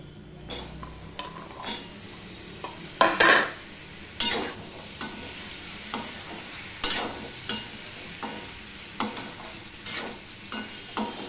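Drumstick pieces are tipped into half-cooked potatoes in a pan over a low gas flame, with a burst of sizzling followed by repeated spoon-stirring scrapes and knocks against the pan over a soft, steady fry.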